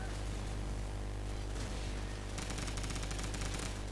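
Skorpion submachine gun emptying a full magazine in Call of Duty Modern Warfare, a dense continuous rattle of rapid automatic fire that stays loud and unbroken, over game background noise.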